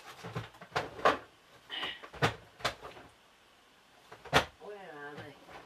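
A drawer is opened and rummaged through while searching for paint, a series of sharp wooden knocks and rattles scattered over about five seconds, with a voice talking briefly between them.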